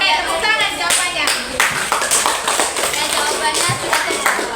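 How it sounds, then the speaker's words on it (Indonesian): Classroom students clapping hands together, brisk uneven claps from a small group close by, with children's voices chattering over them. "Oke, tepuk tangan jawabannya."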